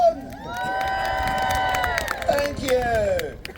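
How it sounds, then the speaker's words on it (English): Crowd at an Easter medieval festival at Arundel Castle cheering and clapping, a loud steady roar of many voices with scattered claps and shouts over a few seconds. "Big round of applause for the birthday boy."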